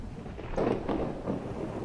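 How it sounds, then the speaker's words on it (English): A rotating storm forms a tornado in a modded Minecraft survival game, giving a steady windy roar broken by a few dull, rumbling swells of thunder. "And that's a tornado forming."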